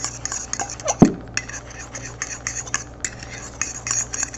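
Flour mixture stirred in a bowl with a utensil instead of a whisk, close scraping and tapping strokes with one sharp knock near the start, quiet and steady throughout.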